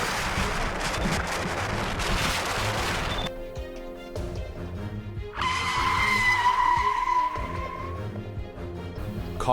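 A massive tanker truck roars along in the mist, then tires screech in long squealing bursts as it brakes hard behind a halted pickup, with rumbling traffic noise around, in Rio de Janeiro.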